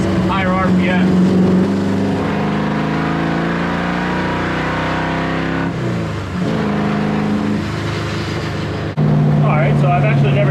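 An LS-swapped International Harvester Travelall wagon roars on a dyno, loud engine revs rising and falling through the RPM range, with people talking over the steady drone.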